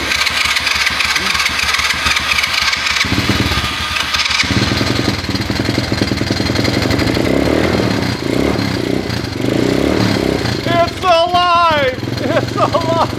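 A cheap, worn ATV engine cranks, then catches and keeps running with a rough, loud, close idle that revs up and down.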